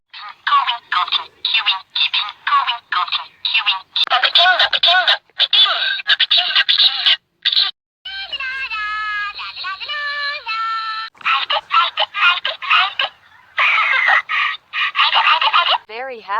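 A talking Teletubbies plush toy plays singing sounds: a long run of tinny, high-pitched electronic vocal chirps and warbles, choppy and rapid, with a few sustained tones in the middle, loud and close.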